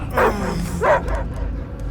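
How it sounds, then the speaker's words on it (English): A dog barks twice in quick succession, loud and close, in Marvel's Guardians of the Galaxy video game on PS5, with a low rumbling game ambience continuing after the barks. "I hear only barking."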